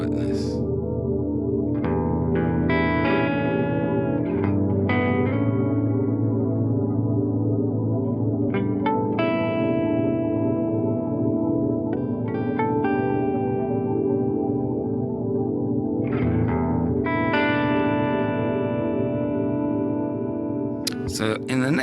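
Electric guitar played through the delay effect of a BOSS GT-1000 multi-effects unit, clean with no distortion, sounding phrases and chords whose notes ring out and repeat in echoing trails, close and prominent over the whole stretch.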